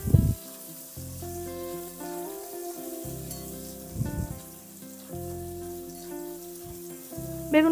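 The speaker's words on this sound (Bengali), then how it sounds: "তো বেগুনগুলো আমি ছেড়ে দিলাম। এবার বেগুনগুলোকে বেশ একটু লাল লাল করে ভেজে নেব।" Eggplant pieces frying in hot oil, a light continuous sizzle partly masked by louder background music, with a few sharper crackles.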